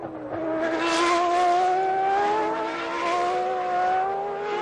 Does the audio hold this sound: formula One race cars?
yes